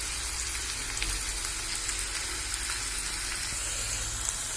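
Chopped onions and green chillies fry in a pan with oil, giving a steady, close, soft sizzle and crackle with no talking.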